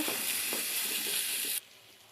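Ginger and garlic sizzle steadily as they fry in a pan for a chicken pepper fry, a continuous bright hiss with soft stirring taps that cuts off abruptly near the end, no voices.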